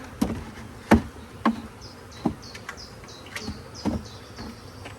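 Honey bees at an open hive during brood frame handling, a close steady buzz broken by several sharp knocks and clunks as frames and boxes are moved.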